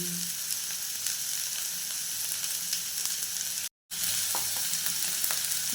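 Kakrol (spiny gourd) frying in a pan with a steady, close sizzle and occasional scrape of stirring, with a brief dropout partway through and no voices.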